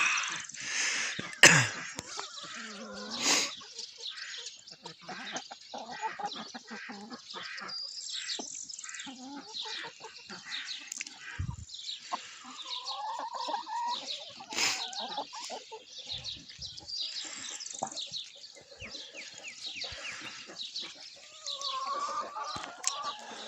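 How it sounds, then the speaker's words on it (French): Small birds sing and chirp at dawn in a French outdoor setting, with busy overlapping calls near and far and a few louder sharp notes, while a rooster or fowl may call among them. "le petit matin, avec les petits oiseaux qui chantent, qui chantent"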